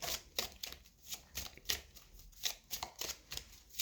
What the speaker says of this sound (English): Last shuffle, Spirit.